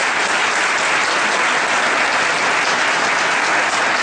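Sustained, dense applause from a large audience at a temple festival, steady and loud throughout with no breaks and no talking over it.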